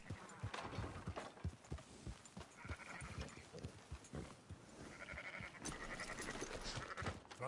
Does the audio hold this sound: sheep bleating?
yes